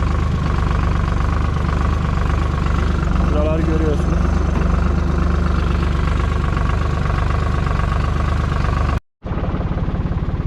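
A tractor engine idles steadily close by with a constant low rumble while someone talks over it, and the sound cuts out briefly just before the end.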